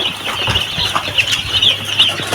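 Many small chicks peep in a dense, continuous high chorus at close range, with chickens faintly mixed in and occasional soft rustling.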